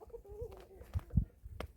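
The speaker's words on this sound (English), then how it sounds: "And there's chickens doing stuff in the background." Chickens on a hobby farm cluck and murmur in the background, with a few soft low clucks and brief calls scattered over a short moment at moderate distance.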